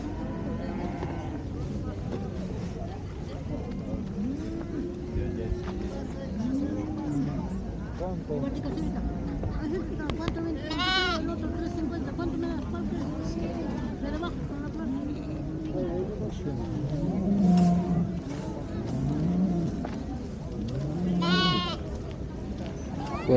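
Sheep bleat repeatedly at a livestock fair for sheep and cattle in Taraco, Huancané, with several wavering calls rising from a constant murmur of crowd talk and distant engine noise.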